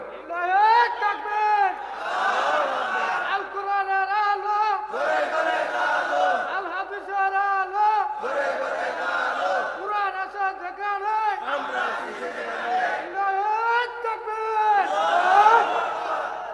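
A large crowd at an Islamic religious sermon chants a slogan in unison, in repeated rhythmic call-and-response waves of massed voices, loud and reverberant, filling the whole stretch.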